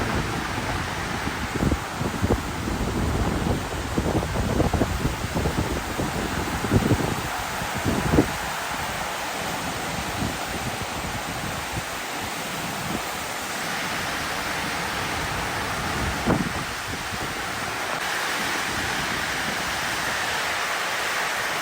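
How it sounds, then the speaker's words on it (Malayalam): Heavy rain falls steadily and densely for the whole stretch, a continuous wash of hiss and patter, fairly loud and close, with an occasional low rumble beneath it. "അത്രയും മഴ ഇങ്ങനെ മൂടി നിൽക്കുന്നുണ്ട്"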